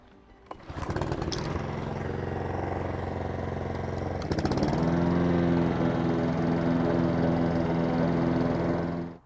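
A rotary lawn mower roars to life within the first second and runs at a loud, steady drone while mowing, its pitch shifting slightly midway before cutting off at the end.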